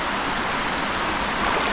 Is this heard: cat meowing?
no